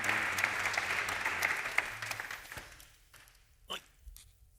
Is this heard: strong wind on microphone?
no